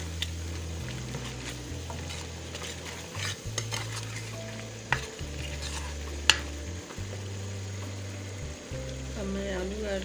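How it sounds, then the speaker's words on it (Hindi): Peas go into a pan for aloo matar sabzi, and a soft steady sizzle carries beneath repeated stirring with scrapes and light clinks of a utensil against the pan. A low electrical hum runs throughout. "अब मैं मटर ऐड कर रही हूँ"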